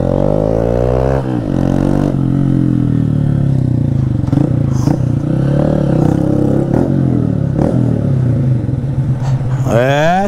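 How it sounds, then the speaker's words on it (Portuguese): A Honda CG160 Titan motorcycle with a short stainless steel 304 exhaust revs loudly up close, its engine note climbing and dropping through repeated throttle blips, with someone talking briefly at the end. "CG-160 Titan. Escape atalho em aço inox 304."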